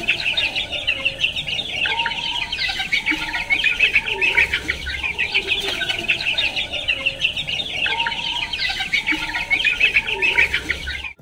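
Egyptian Fayoumi chickens on a small poultry farm cluck and chirp in a steady, busy chorus. The flock stays close and fairly loud throughout, with no talking.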